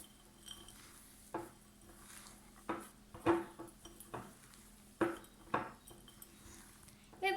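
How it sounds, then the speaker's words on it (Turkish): Cinnamon and other ingredients are worked into cookie dough in a bowl with a spoon, producing scattered clinks and knocks of the utensil against the bowl, close by and separated by quiet gaps. "Ve bu malzemeleri de güzelce hamuruma yedireceğim."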